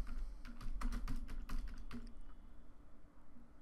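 Quick bursts of keystrokes on a computer keyboard, a brisk run of taps through the first two seconds and then stopping, close and clear with no talking.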